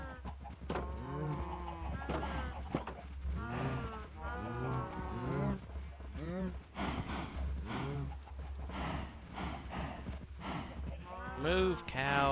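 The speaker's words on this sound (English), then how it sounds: "Move, cows." Cows in the Minecraft video game moo repeatedly and close by, the lowing calls overlapping and following each other in quick succession throughout.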